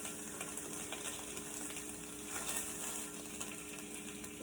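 Grass-fed butter sizzling in a hot skillet, a steady, faint crackling hiss close by with light popping, continuing without pause.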